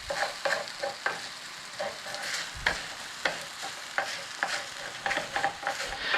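Hash browns fry in a pan for chorizo breakfast burritos, with a steady soft sizzle broken by repeated scraping stirs of a spatula, close up and free of talk.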